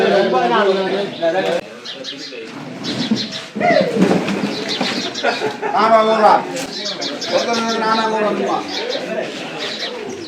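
Sparrows nesting overhead at the Jaffna crab market chirp repeatedly throughout, set behind steady, loud conversation between people nearby.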